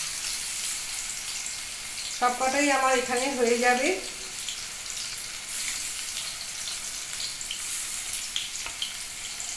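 Pointed gourd (potol) slices frying in oil in a pan over low gas, a steady soft sizzle and hiss running throughout, with a voice speaking briefly over it near the start.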